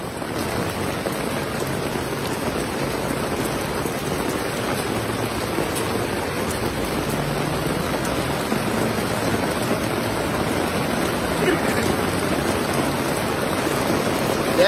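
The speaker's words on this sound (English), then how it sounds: "it's raining" Heavy rain pours steadily at Dodger Stadium during a Dodgers versus Pirates baseball game, a dense, loud, unbroken hiss of drops drumming on surfaces with no clear speech.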